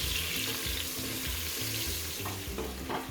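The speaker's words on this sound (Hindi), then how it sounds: "प्याज को हम ऑयल में फ्राई करेंगे ब्राउन कलर आने तक" Sliced onions frying in hot oil in a pan, a loud, dense, continuous sizzle with faint stirring scrapes, heard alone without talk.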